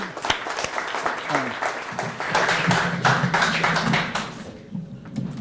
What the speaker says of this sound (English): give the last round of applause to you guys